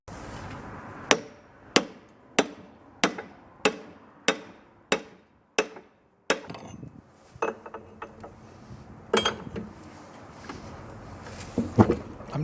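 Hammer tapping on a seized old Ideal anchor winch capstan to free it, nine sharp metallic strikes at a steady pace, then looser clanks, scrapes and rattles as the part shifts, close and with no talking.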